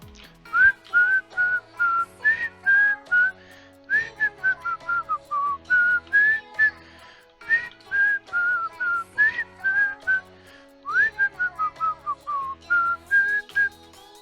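A person whistles a bouncy melodic tune close to the microphone, in short repeated phrases with brief pauses, over a quiet musical backing, alone and without talk.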